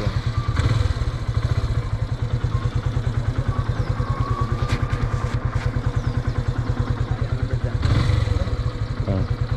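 A Yamaha FZ motorcycle engine runs steadily close by, its rapid even thumping pulse continuing throughout with a few brief clanks on top.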